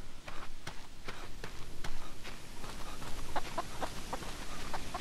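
Chickens cluck repeatedly in the video game Hollow Cocoon, a steady run of short, fairly close hen calls over a busy game background with scattered sharp clicks, with no talking.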